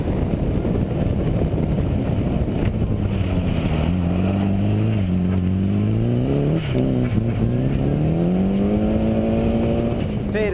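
A Ford Fiesta rally car, down to three gears, drives a stage at the Donnelly Rally, its engine note rising and falling through shifts at close range, loud and continuous, with a commentator talking over it.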